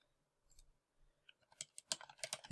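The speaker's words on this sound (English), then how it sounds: "here you'll have to type in your username and your password" Keystrokes on a computer keyboard entering a username at an off-campus library login, starting with a few sparse taps and building into a quicker, louder burst of clicks near the end.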